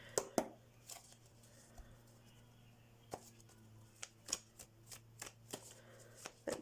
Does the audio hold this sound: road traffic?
no